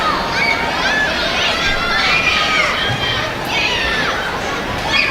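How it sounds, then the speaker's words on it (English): Cheering and excited shouts from spectators on the sidelines of a preteen girls' ninja competition stage run, sustained crowd voices rising and falling continuously throughout. "Maya is getting a lot of cheering from the sidelines, as you can hear"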